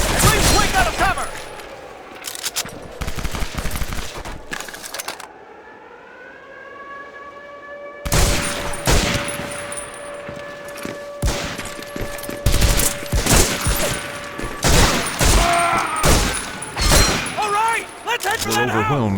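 Rapid bursts of MG-42 machine gun fire from a PS2 war video game, loud and dense, with a wailing air-raid siren in a quieter gap and shouted voices around the shooting.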